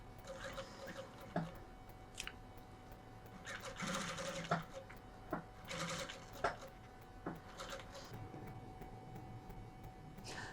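A Reliable 2700SZ direct drive zigzag sewing machine runs in bursts, its rapid needle clatter rising and falling, with faint sharp clicks and low background noise throughout.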